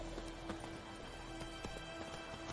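Roach, a horse in The Witcher 3, gallops with steady clip-clop hoofbeats over a constant game ambience, moderately loud and close, with a faint musical drone underneath.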